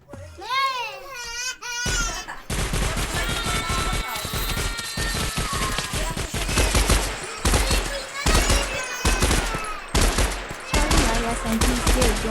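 Rapid bursts of gunfire in the Minecraft video game crackle almost nonstop after a brief opening of voices, loud and dense with short gaps, as players talk over the shooting.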